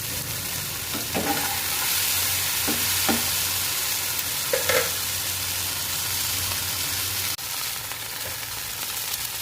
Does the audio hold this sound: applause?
no